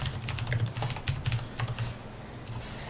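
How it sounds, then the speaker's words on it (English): Rapid, irregular clatter of typing on a computer keyboard during an online guild profession tournament, close and clear with no talking over it, slowing and trailing off toward the end. "Let me type that in the chat now."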